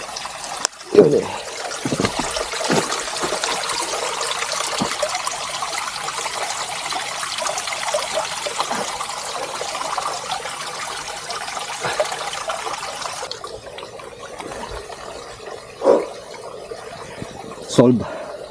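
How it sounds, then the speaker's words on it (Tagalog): Water trickling and gushing near a trail on Dobongsan Mountain, a continuous close hiss with occasional louder splashes, thinning out toward the end with a few brief bursts. "Parang may tubig doon eh."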